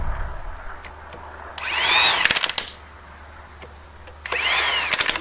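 A power tool, likely an impact wrench, tightens wheel bolts on a Case 480 all-terrain forklift: two loud bursts of rapid hammering with a rising whine, separated by a quieter idle hum, close up with no talking.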